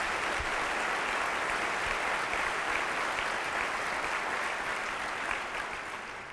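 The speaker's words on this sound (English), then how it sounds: "Let's give them a round of applause." Sustained crowd applause fills a large room at a morning district address, dense and steady throughout before tapering slightly near the end.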